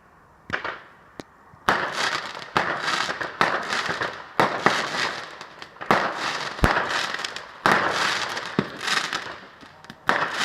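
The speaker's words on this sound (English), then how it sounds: "Just set the fireworks at one." Fireworks go off on bonfire night in rapid, loud crackling bursts and bangs that follow one another almost without pause, nearby and unaccompanied by speech.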